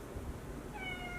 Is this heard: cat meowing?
yes